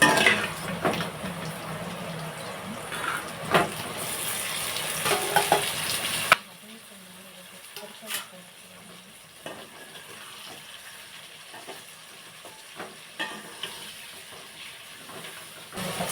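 Onions and tomatoes fry in a pan for a Christmas lunch, a loud close sizzle with stirring scrapes for about six seconds, then a much quieter simmer broken by occasional clinks.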